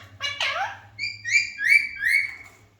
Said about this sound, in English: See friends, my parrot is biting me.